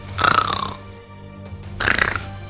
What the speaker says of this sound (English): That sounds like snoring.